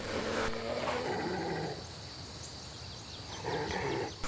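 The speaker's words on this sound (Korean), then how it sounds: "하이에나는 울부짖었지만 소용없었다." A hyena in the wild in Botswana's Okavango cries out in two bursts of harsh, growling howls, loud and close, separated by a quieter stretch of rustling background.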